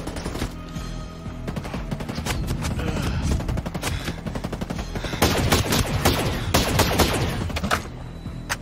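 Rapid gunfire fills the Ghost Recon Breakpoint co-op game, with dense bursts of automatic shots coming close together and growing heavier toward the middle, all fairly near and loud.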